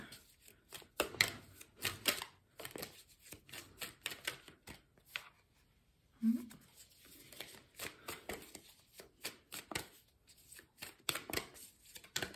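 Oracle cards being shuffled during a Sagittarius tarot-style reading, a long run of quick papery riffles and flicks in uneven bursts, close and fairly soft, with no talk over them.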